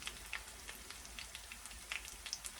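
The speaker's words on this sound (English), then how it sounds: "I'm cooking it in a little bit of vegetable oil, a little bit of the Kerrygold garlic and herb infused butter" A potato pancake made from leftover mashed red potatoes fries in vegetable oil and Kerrygold garlic and herb butter, giving a soft, steady sizzle with scattered faint pops and crackles, close by and quiet, with no voices.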